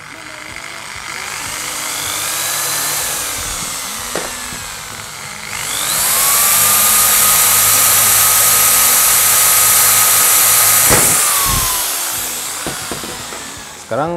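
A power drill bores a hole into an Oxer Twister roller skate. The whine rises as the motor spins up and holds steady and loud for several seconds before winding down, with some handling knocks around it.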